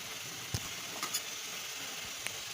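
Steady sizzling from a hot pan as tomato pickle is stirred, with a few soft scraping clicks, close and fairly quiet, no voices.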